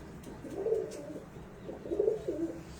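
Breeder pigeons coo in two soft, low, rolling phrases close by, with faint background noise between the calls.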